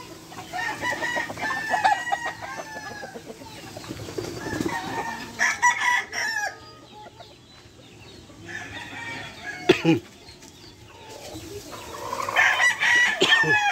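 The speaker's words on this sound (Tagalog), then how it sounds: "Yung mga manok nila." Spangled roosters crowing repeatedly with hens clucking around them, a busy farmyard chorus at moderate distance with some low background noise.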